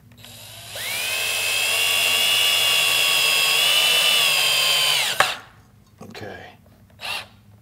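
A power drill drives a screw into a door jamb while a pre-hung frame is built for an antique door, giving one long, steady, loud whine of about four seconds. It stops abruptly and is followed by a couple of short rubbing and handling noises.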